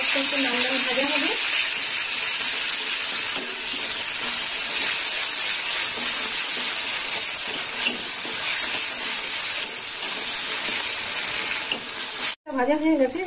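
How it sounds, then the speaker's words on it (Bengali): Onion paste fries in a pan at home while cooking chichinga aloo kosha, a steady close sizzle holding throughout with faint stirring, briefly cut off near the end. "পেঁয়াজটা একটু লাল লাল ভাজা হবে"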